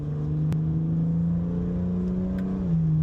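A 2025 Aston Martin Vanquish exhaust in sport plus mode hums at a steady, loud idle-to-mid rev, with a brief sharp blip near the start and the engine note dipping slightly toward the end.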